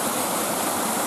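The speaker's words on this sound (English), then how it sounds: "I came across this little beck, this little stream running down into Lake Windermere" Small beck in the Lake District near Kirkstone Pass, running down into Lake Windermere, makes a loud, steady rush of splashing water close by that does not let up.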